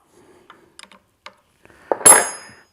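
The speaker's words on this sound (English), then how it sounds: "And then we'll just tighten down the lock nut here." A wrench works on the lock nut of a rebuilt Suzuki Samurai steering box: a few light metallic ticks and clicks, then a sharper clank with a short ringing metal tail.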